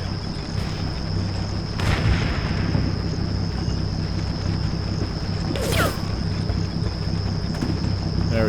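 Incoming fire on tanks in the Combat Mission Shock Force war game, with a continuous low battle rumble, a few sharp bursts standing out near the two- and six-second marks, and a constant high whine beneath.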